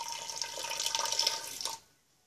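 Water pours from a hose or tap into a Mueller washing machine tub that is clogged beneath the agitator. It makes a bright, steady splashing rush for nearly two seconds, then cuts off abruptly into near silence.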